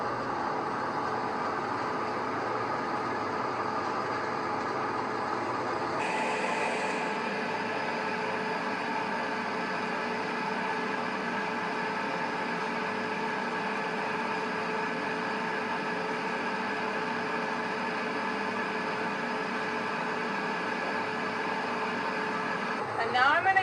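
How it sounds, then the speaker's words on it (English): A soldering torch set to a soft, feathery flame blows with a steady roaring hiss that runs unbroken for over twenty seconds, stepping slightly louder partway through, with no talking. "I'm going to actually like just dry this with a really feathery flame"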